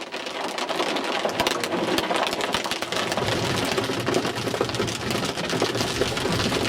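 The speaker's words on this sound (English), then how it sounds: "There's a lot of hail going off here right now, and it sounds tremendous right now." Dense, rapid pattering of hard pellets drumming on surfaces, a constant loud clatter with sharp individual hits scattered throughout, no talking.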